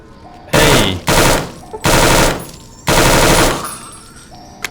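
Automatic gunfire in the post-apocalyptic game Fallout New Vegas, four loud close bursts of rapid shots separated by short pauses.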